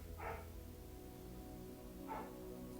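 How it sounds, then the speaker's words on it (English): Two short, muffled dog barks, one near the start and another about two seconds later, faint and from a distance against a low steady hum. "I apologize if you can hear my dog barking."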